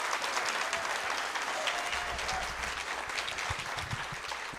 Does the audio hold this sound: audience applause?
yes